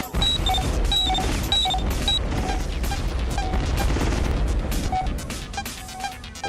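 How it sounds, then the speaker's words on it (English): Rapid bursts of explosions and gunfire-like blasts from the helicopter combat video game G-Police, loud and dense over a steady game soundscape with intermittent short electronic beeps, no talking. "A lot of explosions happening"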